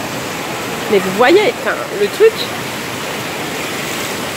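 An indoor wave pool at Center Parcs gives a broad, steady wash of water noise, a continuous rushing hiss under someone speaking French near the microphone.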